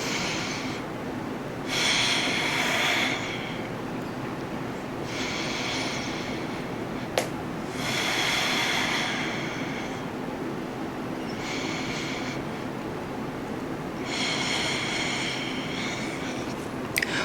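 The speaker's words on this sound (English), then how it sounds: "Hold here for 3 deep inhales and exhales." Deep, slow breaths during a Pilates stretch, a pattern of audible inhales and exhales, each lasting about a second, separated by quiet pauses, close and fairly loud over a steady low room hiss.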